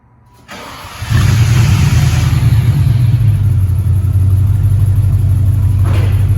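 An Impala's engine cranks and catches, then settles into a loud, steady low rumble that holds close and constant, with no talking.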